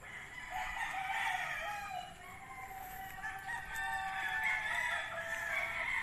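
Gamefowl roosters, white and sweater lines, crow at a game farm, several loud calls overlapping almost continuously with no break.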